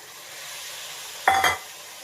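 Soaked rajma kidney beans dropped into a hot pan for a rajma mixed vegetable curry, a low sizzle followed by one sudden loud burst of hissing and clattering as the beans hit the oil, fading quickly.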